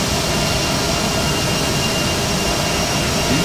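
Steady, loud roar of jet engines on an Aerosoft CRJ 700ER regional airliner in the Prepar3D flight simulator, heard from outside the aircraft as a constant broadband rumble and whine with no voices.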